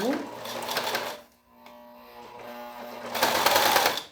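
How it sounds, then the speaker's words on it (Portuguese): A domestic sewing machine stitches plastic piping onto the edge of a plastic sheet at a slow pace, with close rattling bursts of stitching at the start and end and a brief pause in between. "Vou costurando devagar e vou ajeitando o vivo na beiradinha do plástico."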